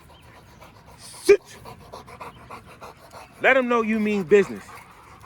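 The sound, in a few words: dogs panting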